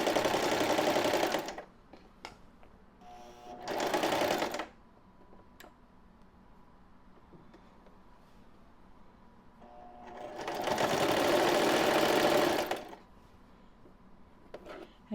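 A sewing machine stitches a straight half-inch seam on a simple cotton pillowcase in three loud bursts of rapid stitching, each about two seconds long, with quiet pauses of fabric handling between them.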